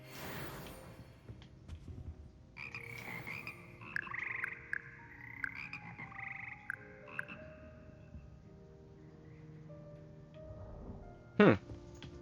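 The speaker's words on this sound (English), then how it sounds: "symphonic frogs that comprise the Hogwarts Frog Choir" The magical frogs of the Hogwarts Frog Choir in the video game Hogwarts Legacy sing in a chorus, sustained croaking tones in layered harmony, with a sharp click near the end.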